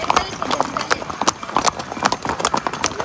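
Horses walk by in Pahalgam, their hooves clip-clopping in a steady, close, fairly loud rhythm of sharp repeated strikes, with voices murmuring in the background.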